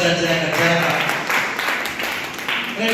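An audience at a formal ceremony claps together in a dense burst of applause that holds steady for a few seconds, close and fairly loud, with voices mixed in.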